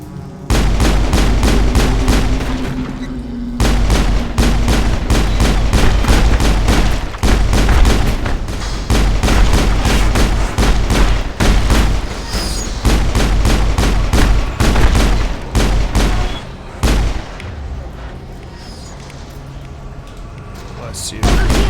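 Sustained gunfire in Mass Effect 1 during the Thorian mission, dense rapid shots and booming impacts nearly nonstop for about twenty seconds, loud and close, thinning toward the end.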